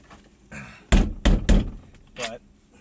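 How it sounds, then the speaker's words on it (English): Several heavy thumps struck close by in quick succession on a hollow 2004 MINI Cooper S door panel, with a muffled voice briefly in the background. "pounding on the door panel also works equally well"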